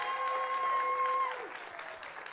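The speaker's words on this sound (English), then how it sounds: "Let's give him a round of applause." A live audience applauds during a church talk as a guest is welcomed onstage, a steady broadband patter of clapping lasting a couple of seconds over a sustained tonal hum.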